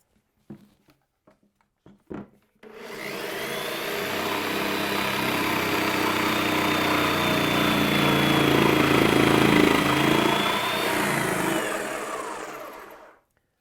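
A few sharp knocks, then a power jigsaw whirs up and cuts steadily through wood for a wooden shield for about ten seconds with a high whine, close and loud, before stopping.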